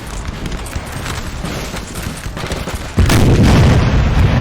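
Canister shot from artillery against Austrian grenadiers in Napoleon Total War, with horse artillery and a raging battle: a rumbling din of distant booms and crackle, then a sudden louder blast that sustains a heavy low roar.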